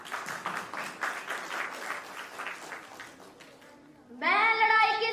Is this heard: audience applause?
yes